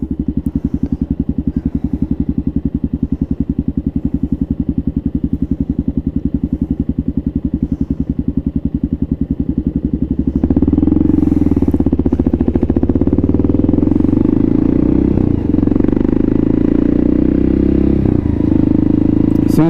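A Kawasaki KLR650 single-cylinder motorcycle on a first ride after a rebuild, with a steady thumping idle rhythm that shifts into a louder rising engine note as it pulls away and accelerates, heard up close.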